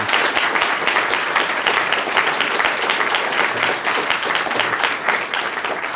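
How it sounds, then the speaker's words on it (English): Audience applause at a lecture on hive psychology and the origins of morality and religion: steady, full clapping from a large room, sustained and loud throughout. "What a great place to stop for applause in this group."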